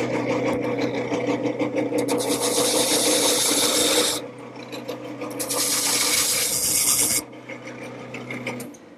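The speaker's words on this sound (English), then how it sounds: "to make those I'm using a skew chisel" A skew chisel cuts shallow V grooves into a spinning wooden post on a lathe, giving a loud, continuous rasping scrape that comes in two long passes with brief gaps between them.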